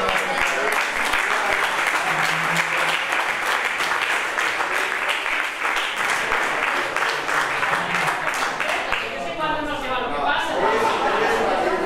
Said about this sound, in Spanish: Os pido un aplauso para Arenales